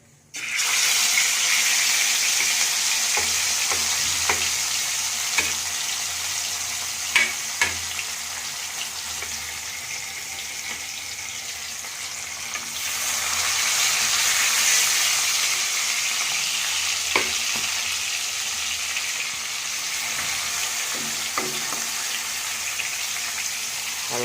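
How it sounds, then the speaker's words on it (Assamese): Fish pieces sizzle in hot oil in a wok, a loud continuous hiss and spatter with occasional sharp pops and utensil clicks, close and sustained. "তাৰপিছত মাছকেইটা এটা এটাকে ফ্ৰাই কৰক।"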